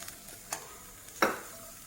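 Tamarind water splashes into bitter gourd frying in a pan, giving a soft sizzle with a few faint stirring clicks and one sharper hiss as the liquid hits the hot oil.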